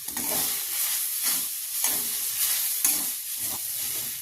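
A spoon stirs radish paratha filling with ground cumin in a hot pan, giving rhythmic scraping strokes roughly every second over a soft continuous sizzle, close and fairly quiet with no talking.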